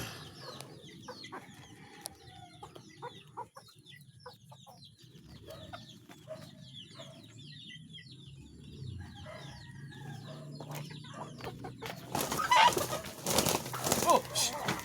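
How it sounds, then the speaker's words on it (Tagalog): A busy flock of chickens, hens with their chicks, cluck and chatter, with scattered calls overlapping, growing louder and more agitated toward the end as hens fight. "ganyan po karami yung ating mga alagang manok"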